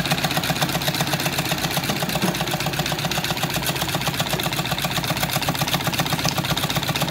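A small Stirling engine generator runs on a sterno burner, giving a steady, fast mechanical chatter and whir at even volume from start to finish, close by, with no voices.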